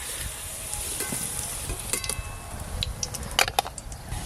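Potatoes fry in a pan over a clay stove, a soft continuous sizzle with scattered pops and a few light clinks of utensils, fairly quiet and close.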